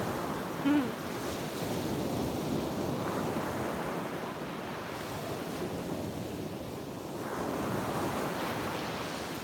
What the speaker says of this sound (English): back to our beautiful waves